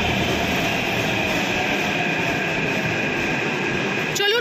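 A Hyderabad metro train pulls into a station with a loud, steady rumble and rail noise, ending in a rising wheel squeal.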